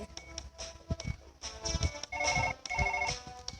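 A telephone rings in the video game Surgeon Simulator: repeated electronic ringing bursts with a tonal, trilling quality, moderately loud against some background game noise.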